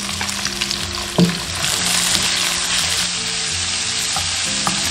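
Onion and red and green pepper strips sizzle and crackle in a hot wok as they are stir-fried. A spatula clinks once, and a steady frying hiss continues with occasional scraping.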